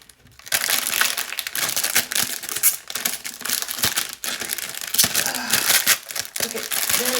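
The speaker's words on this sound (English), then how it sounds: "Take off the sticker." A sticker is peeled off and a makeup package is opened, giving a steady run of close crinkling and crackling packaging noises across the whole stretch, with a few sharper snaps along the way.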